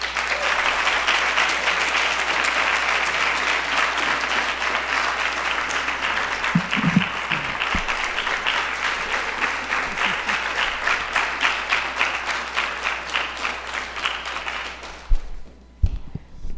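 Sustained applause from a large lecture audience fills the space, steady and enthusiastic for a long stretch before fading out abruptly near the end.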